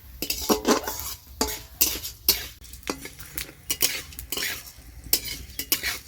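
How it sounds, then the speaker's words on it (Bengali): Rice-flour snack batter with coriander leaves frying in a pan, stirred in repeated scraping strokes of a utensil against the metal over a steady sizzle, close and fairly loud with no talking. "তো ভালো করে ভেজে নেব।"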